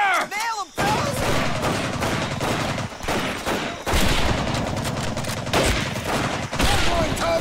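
Dense gunfire in a WWII video game battle: rapid bursts and volleys of rifle and machine-gun shots, loud and close, crackling almost continuously after a brief opening, with shouted voices mixed in.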